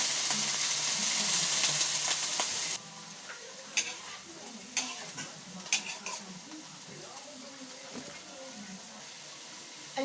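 Eggplant frying for ginisang gulay, a sautéed vegetable dish. A loud hiss and sizzle comes first, then it quiets into a steady simmer broken by sharp, close scrapes and clanks of a utensil stirring in the pan.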